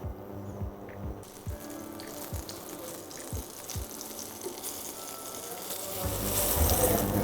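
Paneer pieces fry in a pan in a restaurant kitchen, a steady broadband sizzle running throughout and swelling louder toward the end, with a few soft low knocks from pan handling early on.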